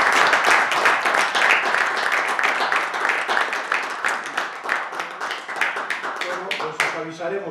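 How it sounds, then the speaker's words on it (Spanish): Audience applause closing a talk at an employment and globalisation debate: steady, dense clapping from a nearby crowd running throughout, thinning slightly toward the end. "Un aplauso."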